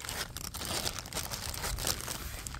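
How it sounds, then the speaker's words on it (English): A plastic bag crinkles and rustles steadily, close and fairly loud, as it is handled to pick up a dead mouse around a house. "Now I need a plastic bag to pick it up."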